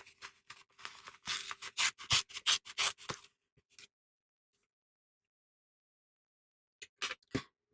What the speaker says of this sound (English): They're little thread snips.